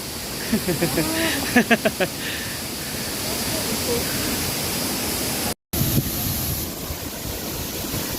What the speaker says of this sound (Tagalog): Narito na tayo sa Abungan Falls.